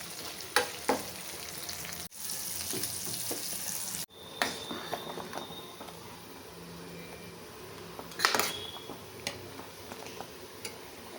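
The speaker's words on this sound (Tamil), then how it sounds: "பாருங்க, சைடில் வந்து வதங்கிட்டுருக்கு." Food with coconut sautés in a pan at a home stove, giving a faint steady sizzle broken by scattered clicks and a few louder scrapes of stirring.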